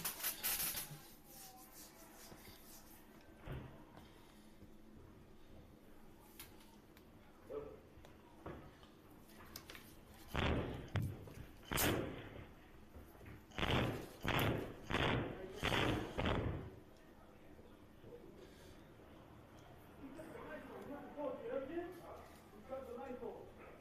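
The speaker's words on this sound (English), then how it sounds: "the video that 50 Cent post of Jim Jones kicking in his own studio door" Jim Jones kicks at his own studio door, sending a run of heavy thuds and bangs in quick bursts, some close together, over faint background noise.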